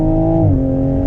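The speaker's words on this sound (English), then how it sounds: "this car has some power. The acceleration is pretty awesome." Engine of a 2021 Toyota Supra on a test drive, a steady loud tone with a short pitch drop midway, as during a gear change, then holding steady under acceleration.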